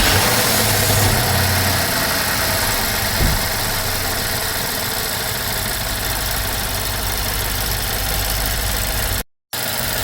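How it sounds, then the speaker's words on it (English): A car engine runs at a steady idle as a continuous mid-pitched hum and vibration, close and loud, with a brief dropout near the end. "Alright, let's start the vehicle."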